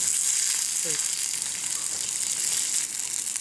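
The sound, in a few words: potatoes frying in fat on a disc pan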